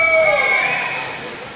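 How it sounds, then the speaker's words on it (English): Swedish spectators cheering at a swimming race, a broad crowd roar with a whistle-like tone, loud at first and gradually fading. "All the Swedes are up, cheering for him now."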